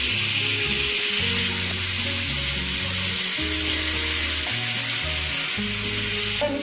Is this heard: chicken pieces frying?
yes